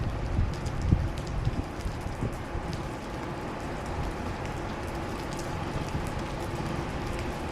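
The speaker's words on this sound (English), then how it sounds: "This is what rain looks like in Las Vegas." Rain falls steadily in Las Vegas during Hurricane Hilary, a constant hiss of drops on surfaces with a few louder close splashes early on.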